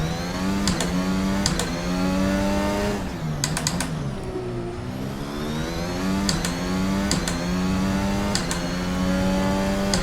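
An F1 car engine racing in Assetto Corsa: a continuous high-pitched engine note rising through the gears, with sharp shift breaks and a long dip as the car slows, then climbing again, loud and up close.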